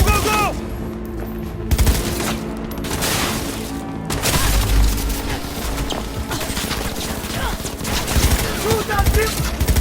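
Cyberpunk 2077 gunfire crackles in rapid bursts and volleys, dense automatic shots layered with booms and battle noise throughout, with voices shouting amid the firefight.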